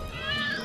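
Cats meow in a TV commercial, a short rising mewing cry with a harmonic tone heard up close over faint background sound.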